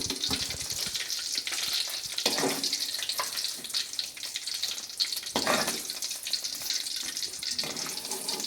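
Bitter gourd kondattam fries in hot oil with a steady, close, hissing sizzle, broken now and then by scraping stirs and lifting in the pan.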